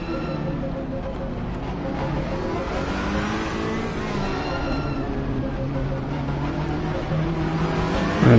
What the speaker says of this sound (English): I hear a little bit more of the engines there.